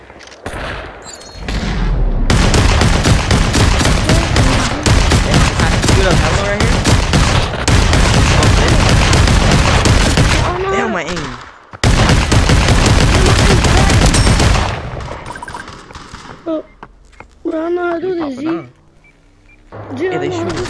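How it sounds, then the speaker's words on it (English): Gunfire in the Population One VR game, loud sustained automatic bursts nearly filling the stretch with a brief break, then tapering off as players talk over and after the shooting. "hey, they shoot"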